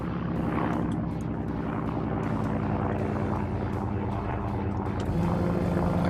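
A Ju 87 Stuka's engine in the game Arma 3 as the plane flies low and slows: a loud, steady, close propeller drone with a rich, buzzing tone that holds throughout, with no voices.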